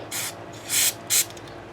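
Three short bursts of a contact cleaner spray hiss into the electronics of an Aria Pro II RS Wild Cat electric guitar, close and crisp with brief gaps, no talking.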